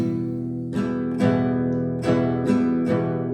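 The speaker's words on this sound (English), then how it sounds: "So here's a really good strum pattern" An acoustic guitar strums chords in a steady rhythmic pattern, close and clear, with sharp downstrokes ringing out between strokes.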